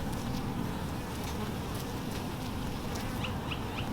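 Honeybees swarm around an active hive in a dense, continuous buzz, with individual bees droning close past the listener against the steady hum of the colony.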